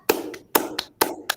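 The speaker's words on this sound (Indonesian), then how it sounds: "Tepuk semangat" Group of teachers doing the rhythmic 'tepuk semangat' clap: three sharp clap bursts, each a strong hit followed by a lighter second clap, evenly spaced and close.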